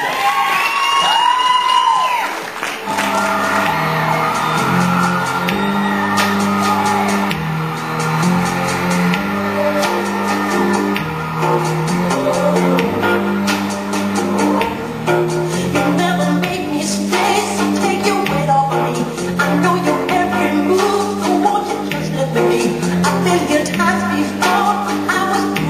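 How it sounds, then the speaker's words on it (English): An audience at a bodybuilding posing routine cheers and applauds. The crowd noise runs steadily beneath loud, rhythmic music that plays throughout. "big round of applause for Fabian Hyland."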